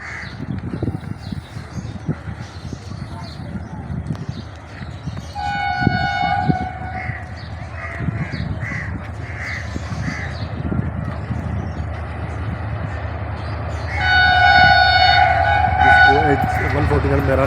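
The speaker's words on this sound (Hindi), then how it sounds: "इसको 149 मेहरान एक्सप्रेस को HGMU 30 लीड कर रहा है 8210।" Mehran Express passenger train hauled by an HGMU 30 diesel locomotive, number 8210: steady rumble of rolling cars with two loud horn blasts, one short and one longer near the end, and crows cawing in the background.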